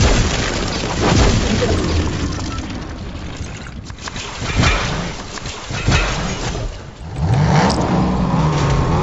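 A car engine revving in the game Fortnite, loud and close, rising and falling through several throttle bursts, mixed with wind and game effects under a talking voice.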